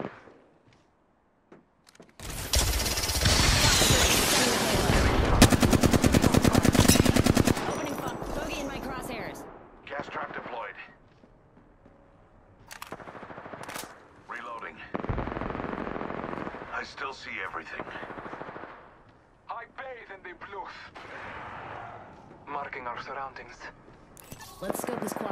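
Apex Legends gunfire in a ranked match: a loud dense stretch of rapid automatic shooting early on, then scattered bursts and single shots trailing off, with a character's voice lines talking in between.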